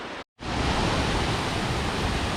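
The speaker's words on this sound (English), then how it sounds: "this is the second of the waterfalls" Rhaeadr Mawddach waterfall in Wales, heard as a steady, loud broadband roar of falling water close by, briefly cut to silence near the start before the rush resumes unbroken.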